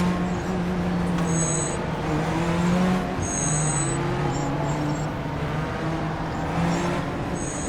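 A Corvette race car in the iRacing sim drones with steady engine tones that rise and shift, while other cars, including Porsches, pass nearby with brief higher whines, loud and continuous.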